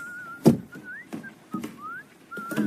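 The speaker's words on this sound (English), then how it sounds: "Whistling." A person whistles a slow, wandering tune with sliding notes, accompanied by soft thuds and knocks in the background.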